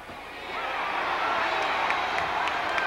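A 1960s wrestling crowd cheers and shouts in a steady, loud roar, with whoops and scattered claps rising over the din throughout.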